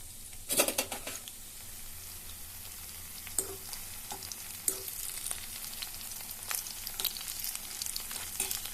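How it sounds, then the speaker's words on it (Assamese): Pokori and pointed gourd fry in oil with a soft, steady sizzle, broken now and then by crisp pops and light spatters, quiet and close with no one talking. "এইটো ফ্ৰাই হৈ আছে"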